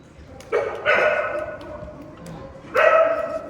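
Dogs barking outdoors on a mountain during a descent, two bursts of loud, close barking over steady ambient noise, with a quieter stretch between them.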